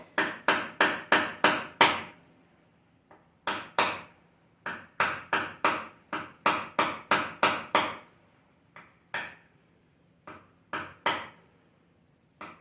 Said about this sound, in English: Use my little hammer.